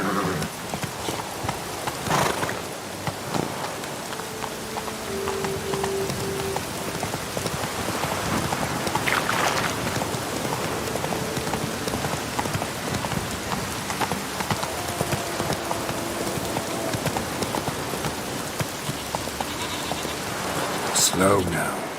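Roach, a horse in a video game, clip-clops steadily through heavy rain, hoofbeats mixed with dense patter on surfaces, with occasional speech.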